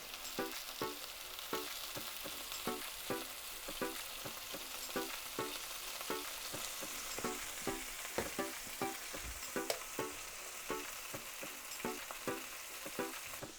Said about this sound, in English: we're frying meat on a pan on the stove